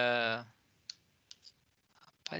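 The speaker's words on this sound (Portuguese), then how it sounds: "Acho que eu cliquei em umas coisas aqui sem querer." Computer mouse clicks, a handful of faint, sharp, isolated taps spaced irregularly, following a brief voice at the start.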